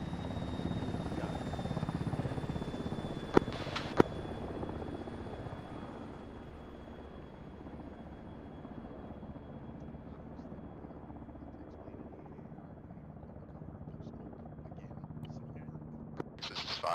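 Helicopter in a military video game, a steady rotor drone at moderate level running under radio-style voice chatter, with a couple of sharp clicks early on.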